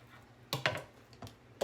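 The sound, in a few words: cutting canned-chicken breast into cubes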